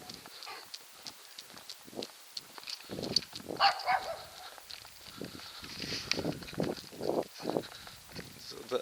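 A tiny, feisty dog yaps in a string of short, sharp barks on a late-night walk, moderately close, mixed with scattered footsteps and clopping sounds.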